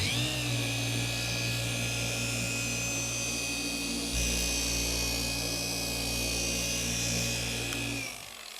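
A buffer pad spins coarse compound across the paint of an Alpina B7, a steady loud whirring drone that holds throughout and shifts slightly in pitch midway before winding down at the end.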